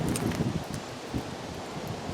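Gusty wind rushes through leaves on a windy day in a home garden, a steady broadband rustle with stronger low buffeting gusts near the microphone and no talking.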